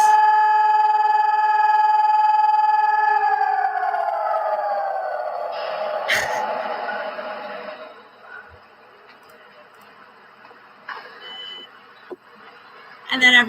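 A wailing siren near highway traffic holds a steady tone, then sweeps downward and fades out over several seconds, leaving a quiet background with a few faint clicks and bumps.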